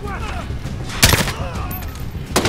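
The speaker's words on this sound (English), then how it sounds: "this is not a full auto gun. It is a semi-auto." A semi-automatic gun in the Call of Duty Modern Warfare video game fires in sharp, separate cracks, one loud shot followed by scattered fainter reports and a final blast, with someone talking and battle noise underneath.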